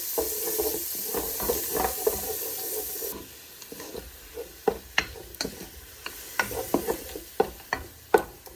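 Chicken frying in a pan with black pepper and soy sauce, a soft sizzle running under repeated sharp clinks and scrapes of a utensil stirring against the pan, close and busy, with no talk.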